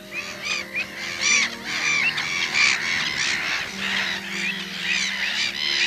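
Geese and other birds honk and call in a Dutch nature area, a lively, overlapping chorus of harsh cries at moderate distance, continuing steadily without talk.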